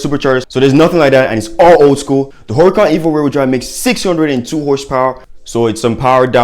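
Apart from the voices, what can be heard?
No everyday noise stands out behind the speech.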